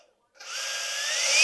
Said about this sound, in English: attaching the battery is sliding in,